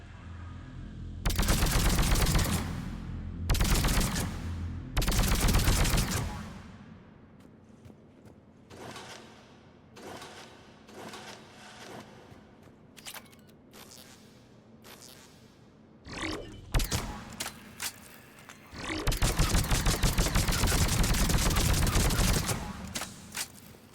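Sniper rifle shots ring out in the Citadel video game as several loud, sharp blasts in bursts, with quieter clatter and mechanical sounds between them.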